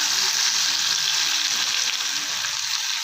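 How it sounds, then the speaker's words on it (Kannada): Garlic and cumin frying in hot oil for a puffed-rice snack, a loud, steady close-up sizzle that hisses without a break, no talk over it. "ಇವಾಗ ಕೊಟ್ಟಿಟ್ಟಿರೋ ಬೆಳ್ಳುಳ್ಳಿ ಹಾಕ್ಕೊಳ್ಳೋಣ."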